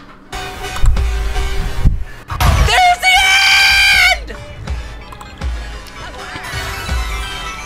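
A man screams at the top of his lungs, a loud sustained shriek lasting about a second, among thuds and other noisy sounds.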